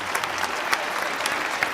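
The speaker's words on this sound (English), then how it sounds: "I appreciate the applause" Steady audience applause during a talk, with dense, even clapping held at a moderate level throughout and a few sharper individual claps standing out.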